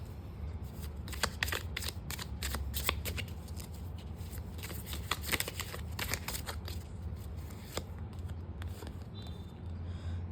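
Tarot cards are shuffled by hand in quick, close, soft riffling bursts that repeat for several seconds at low volume, with no talk over them.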